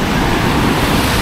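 Strong surf waves roar continuously at a surfing beach in Bali, a loud close wash of breaking water with wind noise and no voices.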